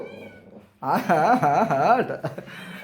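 A cat lets out a loud, drawn-out meow, preceded by a softer whine.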